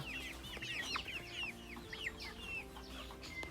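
Purebred laying hens cluck and squawk on a farm, a busy chorus of overlapping calls from several birds, moderately close and steady throughout.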